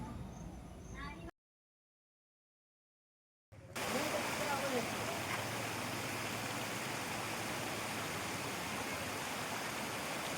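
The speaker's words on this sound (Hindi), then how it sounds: "परानू बाबा के झरने से झरझर व कल कल करता जल यहाँ की चट्टानों तथा वन्य जीव लोगों को काफी लुभाते हैं।" Water from Paranu Baba waterfall near Bargarh, Chitrakoot, splashes over rocks as a steady, even rush. A brief gap of silence comes first, then a constant, moderately loud roar with no voices.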